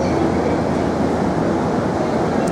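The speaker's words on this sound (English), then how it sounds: "We are now spending 2 hours on a local train." A local train in Japan rolls along with a steady, dense rumble and faint rhythmic rattling from the carriage, heard continuously from inside.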